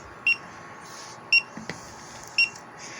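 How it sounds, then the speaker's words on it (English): A Monster key finder anti-loss device gives three short, sharp electronic beeps about a second apart. The beeps are clear and close against a faint background hiss. "it starts beeping like that."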